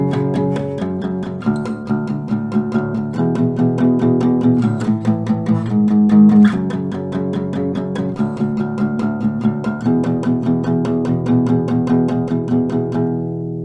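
An acoustic guitar plays the pre-chorus of a song alone, loud and close, with steady strummed and picked chords ringing in a continuous rhythm.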